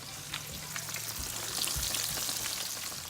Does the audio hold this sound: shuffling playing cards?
no